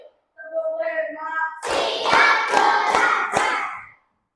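A group claps a counted pattern of about five sharp, loud claps in quick succession after a voice calls the count, with a crowd shout mixed in.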